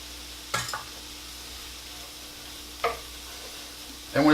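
Garlic fries in a hot oiled skillet, a quiet, steady sizzle broken by three sharp metallic taps and scrapes spaced a couple of seconds apart.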